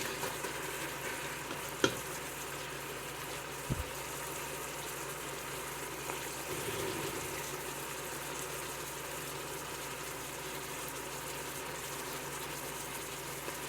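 Steady sizzling of ground meat frying in a Ninja Foodi pot, a continuous crackling hiss with a couple of faint knocks from stirring.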